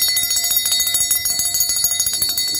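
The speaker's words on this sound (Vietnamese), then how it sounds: "một con chuông đồng rất là hay luôn các bác nhá" Handmade cast natural brass bell ringing in quick repeated strikes, bright sustained metallic tones shimmering and overlapping close up, with no voices.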